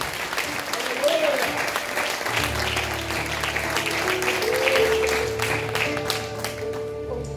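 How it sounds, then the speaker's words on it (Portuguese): A church congregation applauds steadily throughout while an organ or keyboard holds sustained chords underneath, the clapping even and moderately loud. "E pode aplaudir o Senhor?"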